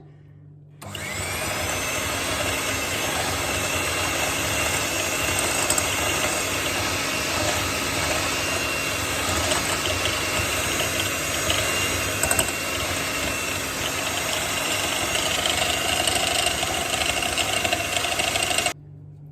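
An electric mixer whisks cake batter with sugar, a loud, steady motor whir that switches on abruptly, runs continuously for nearly twenty seconds close up, and cuts off at the end.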